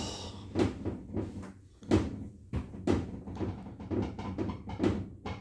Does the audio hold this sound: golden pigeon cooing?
no